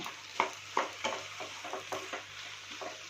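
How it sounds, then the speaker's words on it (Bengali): Potatoes and papaya frying in oil are stirred, with faint sizzling under soft, regular scrapes and a couple of light clinks of a utensil on the pan, close by and quiet. "এবার ভালো করে আবারও একটু নেড়ে চেড়ে দেব"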